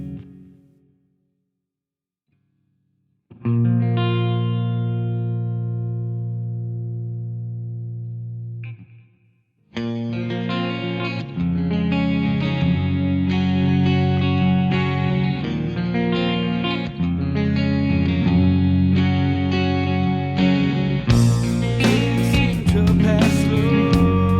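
Electric guitar through an HX Stomp multi-effects unit, first a clean chorused chord ringing out, then a fuller distorted passage played steadily and loudly, no talking.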